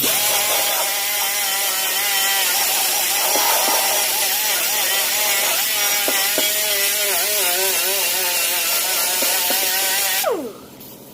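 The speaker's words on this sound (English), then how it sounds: "We're gonna clean this thing up with the wire brush." A wire brush scrubs rust off a Mazda RX8 engine part with a harsh, rapid, continuous scratching rasp up close that stops abruptly near the end.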